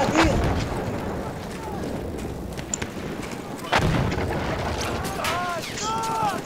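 Tank firing in the World War I shooter game Battlefield 1, heavy booming cannon blasts over constant rumbling battle noise and wind, with distant impacts and whistling shells, and players' voices talking over it.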